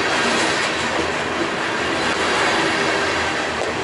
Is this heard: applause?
no